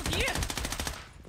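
Rapid automatic gunfire rattles in the shooter video game Blood Strike, a fast even burst of about a dozen shots lasting roughly a second, then cutting off.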